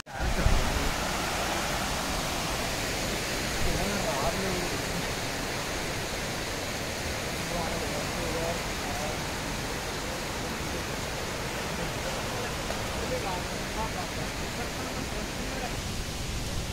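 Dharamattam waterfall near Vizag, Narsipatnam, roars as a loud, steady, broadband rush of falling water that holds unbroken throughout, with a faint voice barely audible at the start.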